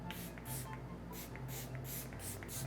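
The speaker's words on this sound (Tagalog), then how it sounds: "So I just spray a little bit of hypochlorous" Hypochlorous acid facial spray being spritzed, with a series of about seven short, soft hissing puffs in a quick irregular rhythm, close and faint, no voices.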